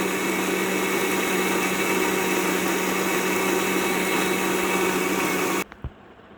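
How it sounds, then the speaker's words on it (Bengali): A mixer grinder whirs steadily as it blends mango with yogurt, a loud continuous motor roar lasting several seconds before cutting off abruptly, followed by a couple of faint knocks. "আমি মিক্সার গ্রাইন্ডারে একসঙ্গে সব কিছু দিয়ে ভালো করে ব্লেন্ড করে নেব"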